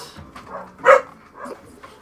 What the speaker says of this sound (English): Can you go figure out what the dogs are barking at, please?